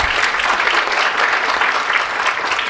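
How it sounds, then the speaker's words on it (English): Audience applause at a talk on ending veteran homelessness in Santa Cruz County, a steady, dense clapping from a full room that holds evenly for the whole stretch with no voices over it. "And clap for that"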